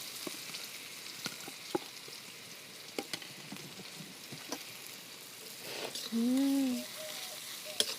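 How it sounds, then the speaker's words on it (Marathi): Onion frying in oil with crackled cumin, a faint steady sizzle with scattered small pops, followed near the end by a brief tonal squeal from something else. "जिरं कडकडलं आपलं आणि त्यात आपण कांदा टाकून चांगला भाजून घेऊया."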